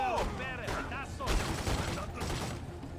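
Bursts of gunfire in The Godfather II video game, with dense rapid shots under overlapping voices and other game noise.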